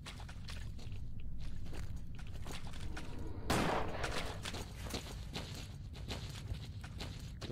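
Gunfire in the video game S.T.A.L.K.E.R.: Call of Pripyat, a scattered run of sharp shots with one louder burst midway, heard over low background rumble.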